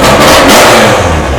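Mazda RX7 rotary track engine with individual throttle bodies screaming at high revs near 9000 RPM on a dyno, very loud, close and continuous.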